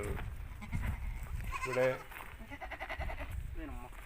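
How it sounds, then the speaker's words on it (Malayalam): A goat bleats once, loud and wavering, amid outdoor noise while people talk nearby; fainter bleats follow near the end. "നഈമി എന്ന ഒരു വലിയ ആടാണ് ഈ കറുപ്പ് കാണുന്നത്"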